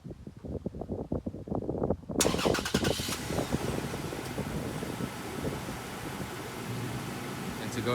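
A Toyota Tacoma pickup's engine starts by remote starter, with a crank that catches at about two seconds into a loud, steady idle continuing to the end.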